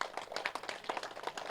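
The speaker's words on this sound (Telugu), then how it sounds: "గట్టిగా క్లాప్స్ కొడదాం" An audience at a rally claps in a quick, even patter of many hands, faint and somewhat distant, over a short moment.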